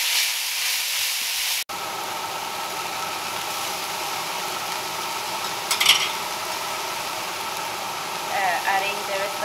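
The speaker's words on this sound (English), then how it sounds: "And cook this meat for about 5 minutes." Ground meat for stuffed bell peppers sizzles steadily in a hot pan, a dense hiss broken by a brief cut, with a few scraping stirs and faint clatter over the frying.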